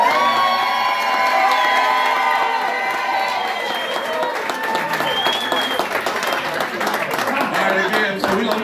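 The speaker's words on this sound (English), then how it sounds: "I want y'all to give Ed the biggest round of applause" A crowd at a Tuesday night picket-line gathering at an Elks lodge gives loud, sustained applause, with cheers, whoops and shouting voices rising through the clapping.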